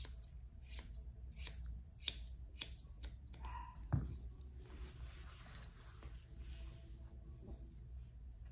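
Grooming scissors trim a Yorkshire Terrier's hair around the ears, giving a series of quick, close metallic snips, some clustered and some spaced apart, fairly quiet against a low room hum.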